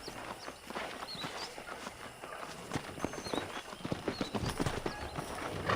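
Horse hooves clip-clopping in the video game Red Dead Redemption near a ranch where wild horses roam, a steady trotting rhythm of hoof strikes up close with birds chirping faintly in the background.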